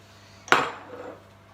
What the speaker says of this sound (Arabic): نحركوا السكر مع البيض كما كتشوفوا هكا